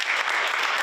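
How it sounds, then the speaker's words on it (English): A brief, dense burst of audience applause at a community book-reading kickoff event, heard only for a moment. "let's give him a round of applause"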